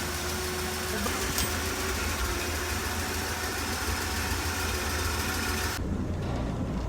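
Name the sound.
1965 Chevy Sportvan engine idling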